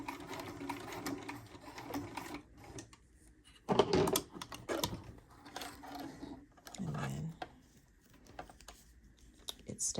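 A sewing machine stitches a 3/8 seam allowance on a wireless bra, its steady mechanical whir running continuously with brief changes in pace as the fabric is guided back and forth.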